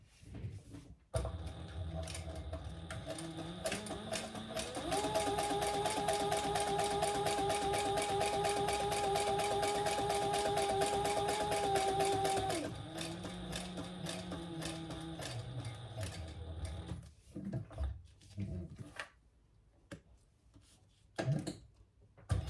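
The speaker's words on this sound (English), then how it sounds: "Let's stitch around this lower" Leather waist pack stitched around its lower closure on a sewing machine, a steady mechanical hum with a raised whining tone in the middle stretch, then stopping and giving way to scattered handling clicks near the end.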